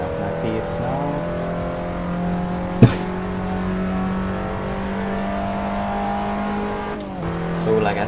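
Abarth 500 producing roughly 195–200 horsepower, heard from inside the cabin as it gradually gathers pace, its engine a steady, sustained drone with a sharp knock partway through and a gearchange-like dip near the end.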